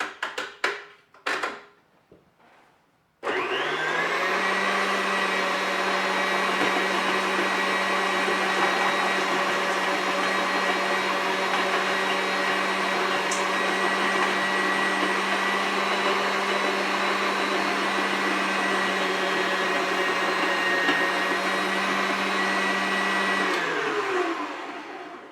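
A few knocks and clatters, then a loud, steady whirring motor drone from a food processor chopping cranberries, running continuously for about twenty seconds before cutting off.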